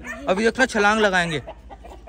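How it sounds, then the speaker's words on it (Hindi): Backyard chickens and a rooster clucking and calling nearby, a short burst of loud clucks under a voice speaking Hindi. "2 मुर्गियाँ भी ले ली हैं, देखो बड़े मज़े से मुर्गे के साथ इंजॉय कर रही हैं"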